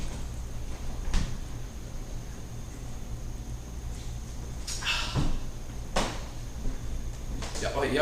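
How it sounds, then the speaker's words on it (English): A fridge door in a quiet room gives a few soft clunks and thumps nearby, set apart by low background hiss. "Well, I opened the fridge."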